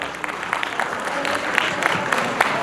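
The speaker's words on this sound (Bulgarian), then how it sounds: "Аплодисменти за вас!" Guests applaud at the Rotary Club Samokov 20th anniversary charity ball in 2023, a steady dense patter of many hands that holds at an even level throughout.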